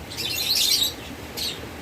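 Pet lovebirds, cockatiels and budgerigars chirp in high, bright bursts, a longer flurry of tweets followed by a shorter one, against a steady low background hum.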